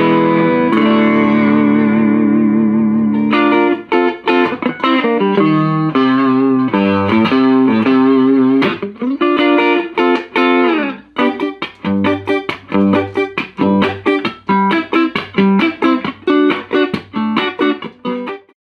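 An electric guitar through a small vintage Fender Champ amp, sustained chords at first, then quick picked notes and strums, loud and close with some distortion.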